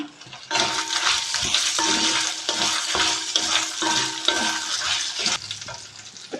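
Garlic cloves and dried red chillies fry over a low flame in a pan, giving a steady close sizzle broken by rhythmic scraping strokes of a stirring spoon.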